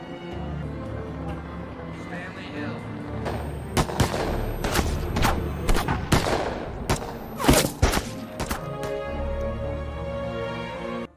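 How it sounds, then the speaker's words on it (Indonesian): Police gunfire: dense volleys and rapid bursts of shots cracking over a steady musical backdrop, loud and close. "muncullah polisi yang mengepung tempat itu dan Stanley diberondong ratusan peluru yang menghujam"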